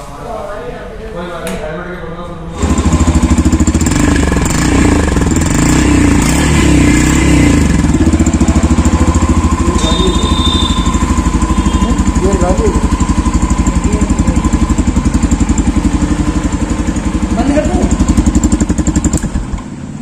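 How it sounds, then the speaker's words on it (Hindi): A Yamaha FZ-X BS6 2022 motorcycle engine starts and settles into a steady, throbbing idle with a loud, close exhaust rumble that continues throughout. "इसका कुछ एग्जॉस्ट साउंड मैं आप सब लोग सुनाना चाहूँगा स्टार्ट करके।"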